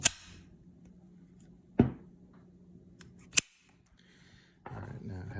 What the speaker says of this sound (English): we're going to eject the magazine, and we're going to make sure the weapon is clear.